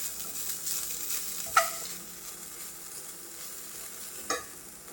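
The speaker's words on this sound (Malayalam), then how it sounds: "ഇളക്കിയെടുക്കാം." Grated coconut and sugar being stirred into a rice flour mixture with a spoon: faint, soft scraping with two small clinks against the bowl, in an otherwise quiet kitchen.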